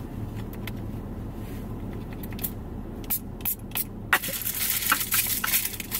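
Food gets hit with short hissing spray bursts, close to the mic, with a clustered run of sprays in the final two seconds and no talking.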